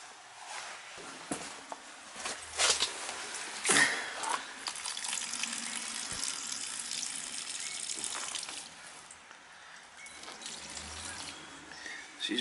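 Water drains steadily from a leaking gas water heater tank, a continuous soft hiss and trickle with a few brief splashes and clanks, fairly faint and alone without talk.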